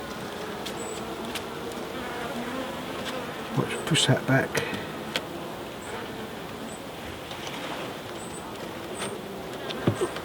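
Bees buzz steadily in an open hive nearby, a continuous droning hum with brief louder bursts of handling noise, and someone speaks briefly over it.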